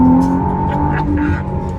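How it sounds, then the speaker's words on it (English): McLaren Artura's 3-litre V6 engine hums steadily up close, with short rising blips as it downshifts through the gears, and a voice talks over it throughout. "Great sound. Very much a McLaren sound."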